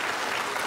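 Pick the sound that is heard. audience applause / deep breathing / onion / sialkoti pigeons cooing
audience applause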